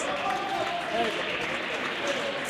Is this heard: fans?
yes